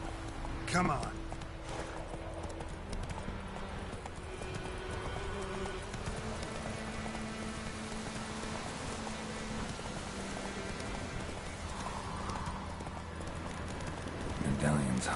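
Horse hooves clip-clopping at a steady pace in the Witcher 3 video game, running continuously under game dialogue with a patter like rain in the background.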